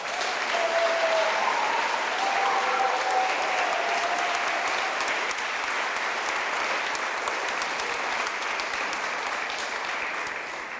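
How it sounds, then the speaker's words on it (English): A dense, steady round of audience applause fills the hall at an international children's film festival award ceremony, sustained and fairly even for about ten seconds. "a great celebration and a big applause for"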